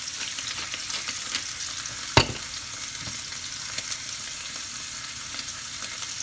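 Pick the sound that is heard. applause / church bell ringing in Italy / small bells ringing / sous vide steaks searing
sous vide steaks searing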